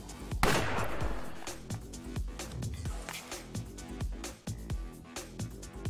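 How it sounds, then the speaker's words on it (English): Gunshot in the combat game Fights In Tight Spaces: a sharp loud blast early on, then a steady run of punchy hits and thuds over background music. "I can even have the gun go off"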